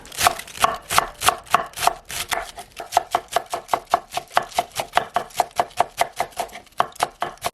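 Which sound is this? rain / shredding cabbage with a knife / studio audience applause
shredding cabbage with a knife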